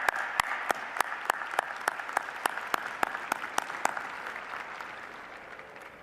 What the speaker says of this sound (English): A round of applause for these recipients.